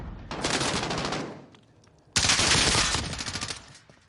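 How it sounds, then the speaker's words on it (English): Gunfire from a gunfight on the Lotus map during a Valorant esports match: two sustained, loud bursts of rapid automatic shots, split by a brief quieter gap, with no voices. "he manages to win the gunfight"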